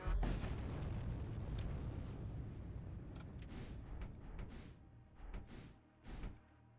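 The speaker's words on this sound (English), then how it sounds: "the explosion litters the surrounding space with wreckage" A space explosion in the video game VoidWar opens with a loud, rumbling boom that slowly fades, followed by a few smaller popping bursts near the end, with no talk over it.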